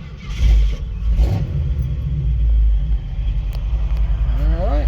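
A 1964 Ford F100 pickup with an automatic transmission rumbles close by as its engine revs and it pulls away, the pitch climbing near the end, while someone speaks briefly over it.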